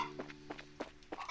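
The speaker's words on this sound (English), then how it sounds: "Alright, chickens." Short, clucky chicken calls from a flock in the video game Trails in the Sky, a few separate bursts spaced about a third of a second apart, fairly quiet and with no talking.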